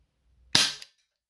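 A single loud, sharp gunshot crack from a Colt Python 6 inch revolver airsoft replica, close up with a short tail, alone.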